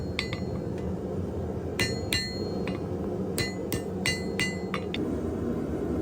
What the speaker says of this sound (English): I'm going to use this tool under the power hammer to separate the blade